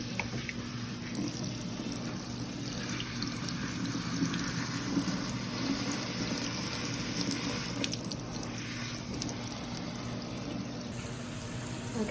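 Tap water running steadily from a faucet while shampoo is rinsed from relaxed hair, a soft continuous hiss and splash at moderate distance with no speech.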